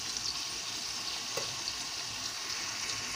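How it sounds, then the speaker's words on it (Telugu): Onions and green chilies fry in oil for a chicken curry, a steady close sizzle throughout with a faint knock of stirring partway through. "చూడండి, ఉల్లిపాయలు వేగాలి ఇప్పుడు."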